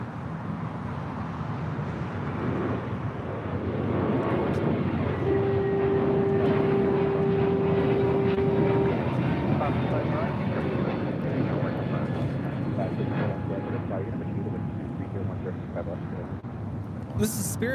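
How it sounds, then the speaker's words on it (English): A JetBlue Airbus A321 airliner produces a sustained broadband jet roar that swells in the middle and then eases. A steady tonal whine comes through briefly. "that is the first JetBlue A321 in the new livery, the first mint livery"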